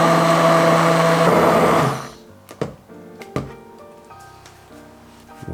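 A blender whirs loudly for about two seconds, remixing a seasoned mixture with salt, pepper and nutmeg, then cuts off, leaving a few sharp knocks and handling clatters.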